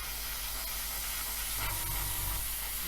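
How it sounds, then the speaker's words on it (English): Airbrush spraying a thin mix of blue paint onto an Airfix 1/24 F6F-5 Hellcat model aircraft, a continuous close, soft hiss with no talking. "What I'm going to do is spray this on here lightly,"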